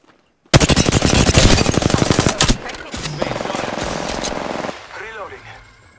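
Loud, close automatic gunfire in Apex Legends, fast and evenly spaced in one long burst that cuts off, followed by a second softer stretch of rapid fire trailing into quieter game sounds.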